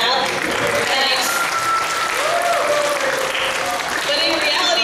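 Audience clapping for a student after a classroom science presentation: steady, dense applause that fills the whole stretch at full strength with no pause.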